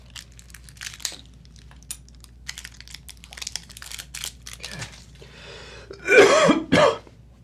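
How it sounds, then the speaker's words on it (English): A person coughs twice near the end, loud and close, while eating a very spicy candy powder, after a stretch of quiet crinkling and tapping sounds. "So much coughing."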